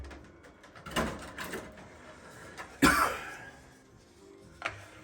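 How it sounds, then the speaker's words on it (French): A few scattered coughs and throat-clearing bursts at moderate volume, spaced apart across a quiet room, the loudest one in the middle. "je tousse, excusez-moi"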